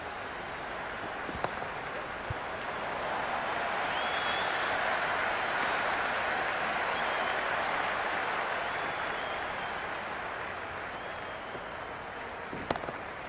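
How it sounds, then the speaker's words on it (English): Cricket crowd in the video game Cricket 26 during an India versus England T20 match, a steady wash of applause and cheering that swells in the middle, with a couple of sharp clicks standing out. "It's almost palpable, the excitement emanating from this crowd at the moment."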